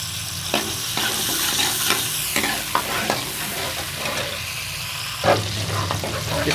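Garlic and onion fry in ghee inside a kadai, giving a steady loud sizzle broken by repeated scraping stirs and a few sharper clatters, with no talking.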